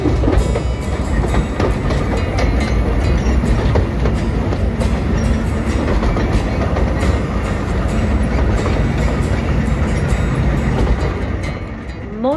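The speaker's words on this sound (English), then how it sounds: "Monty the locomotive is pulling us today" A locomotive-hauled heritage train rolls along the rails, a steady loud rumble with dense clickety-clack beats from the wagons throughout, easing slightly toward the end.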